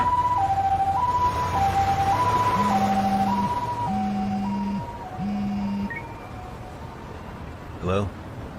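An ambulance siren in the video game Lost Judgment wails in a steady two-tone alternation close by, with a lower horn tone joining midway, then stops before a short sharp burst near the end.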